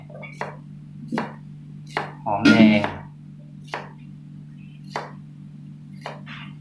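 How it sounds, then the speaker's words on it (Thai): A knife slices kaffir lime leaves on a cutting board in a series of crisp, evenly spaced chops over a steady low hum, with a brief voice in the middle. "ซอยใบมะกรูดใส่ด้วย"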